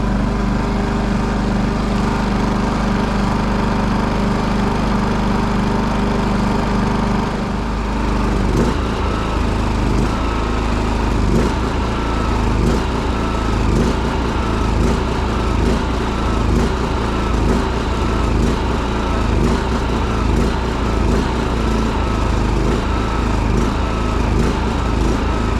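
A WEN 4800W inverter generator engine runs continuously, loud and close, steady at first, then shifting after a few seconds to a rougher, pulsing drone that keeps going as it burns off the last fuel in the carburetor.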